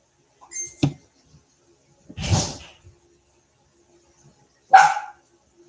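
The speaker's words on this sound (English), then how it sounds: "That was the dog banging against the door." A dog thumping against a door: three separate dull knocks and bumps spaced about two seconds apart, fairly close and loud, with silence in between and no talk.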